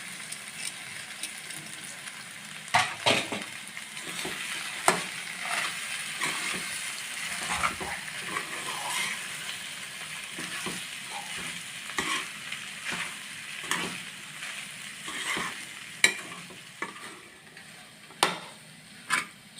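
Soaked, drained rice flakes (poha) fry in a pan while a spoon stirs them, giving a continuous soft sizzle broken by repeated scraping and tapping knocks against the metal, close and without voices.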